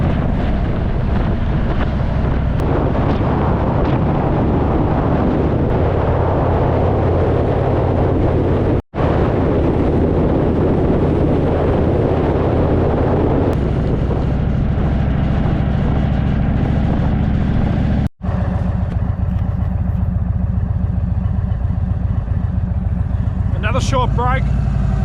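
Steady, loud wind rush and engine drone from a motorbike cruising on a highway, constant for most of the stretch with a couple of brief dropouts, and someone talks over it throughout.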